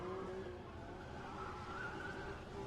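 Car tires screech steadily in a drift under a droning engine at a Red Bull Car Park Drift event in Oman, heard from a distance at moderate volume.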